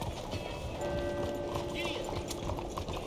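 Horse hooves clip-clop at a steady gallop in the video game Red Dead Redemption, a continuous rhythmic patter under faint game music and a brief voice.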